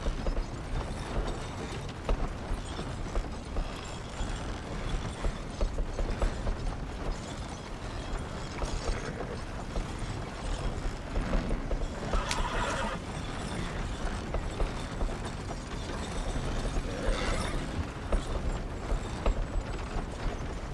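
Horse-drawn wagon rolling along in a Western ranch video game: steady hoof clip-clop and creaking wheel mechanism throughout, with occasional horse whinnies over a dense continuous bed.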